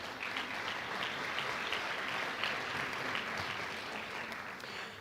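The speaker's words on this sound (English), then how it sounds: "let's give that moment a round of applause" An audience at a UN General Assembly event applauds, a dense, steady wash of many hands clapping that holds at an even level throughout and fades slightly at the close.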